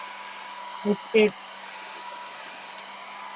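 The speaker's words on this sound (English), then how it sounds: "Listen to the hairdryer change noise." Handheld hair dryer blowing steadily over a gel printing plate, a constant airy whir that holds throughout, with a brief spoken word near the start.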